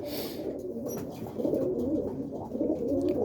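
Roller pigeons in a breeding loft coo in soft, low, repeated phrases close by, with faint bird chirps and light background noise between calls.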